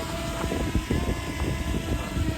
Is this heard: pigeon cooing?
no